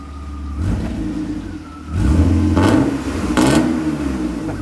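A car engine with a newly fitted muffler idles, then revs up twice in close succession, each rise swelling into a deep, loud growl before settling back, heard close up without talk.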